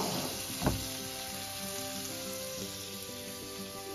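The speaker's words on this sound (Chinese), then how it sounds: "个虾都差唔多煎完啦" Shrimp sizzle steadily in a hot pan for Singapore-style fried rice, a dense, even crackle with one brief sharp knock early on and no talking.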